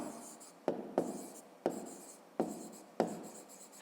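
Hand writing in a notebook during a fifth-grade maths exercise, a pen tapping down in five or six sharp strokes, each followed by a soft scratching trail. The sounds are close and clear, with no talk.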